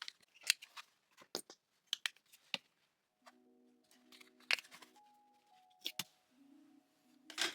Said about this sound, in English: Now I'm getting a brown paper bag and gonna cut that out